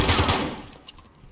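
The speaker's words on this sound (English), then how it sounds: "Where am I getting shot from?" Rapid automatic gunfire in Call of Duty: Modern Warfare crackles in a dense burst, then thins to scattered sharper shots that fade off.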